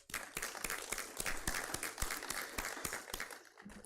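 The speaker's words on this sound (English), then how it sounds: "Please give a round of applause for." An audience at a centenary celebration and conference applauds department staff, with brisk, continuous clapping from a crowd and distinct individual claps popping out, steady and moderately loud before tapering near the end.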